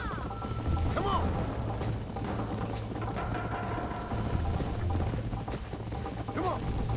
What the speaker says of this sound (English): You're gonna wear that horse out.